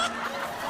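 Chicken in the survival game DayZ clucking in a quick, agitated run of short calls, close and fairly loud, with no talk over it.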